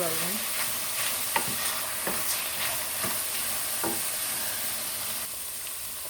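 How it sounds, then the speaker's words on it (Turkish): Mushrooms and tomato paste sizzle steadily while sautéing in a pan, with occasional stirring scrapes over a constant close frying hiss and no talking. "Biraz kavuralım."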